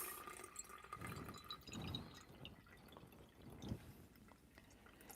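Herbal infusion pours out of a heavy container in a steady splashing stream, with drips and gurgles over several seconds, close and moderately loud with no talking.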